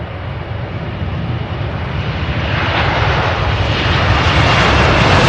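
A large fixed-wing airliner takes off at Louisville's SDF airport, its engines a loud, steady broadband roar that grows gradually fuller and more intense over several seconds, with no voices.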